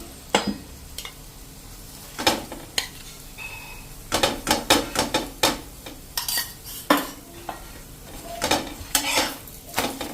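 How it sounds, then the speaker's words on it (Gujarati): A lachha paratha cooks on a pan brushed with oil and ghee. Sharp, irregular clacks and scrapes of a utensil against the pan come in clusters over a faint background sizzle. "અને એને લાઇટ એવું આપણે કૂક કરી લેશું બે સાઈડ તેલ, ઘી લગાવીને."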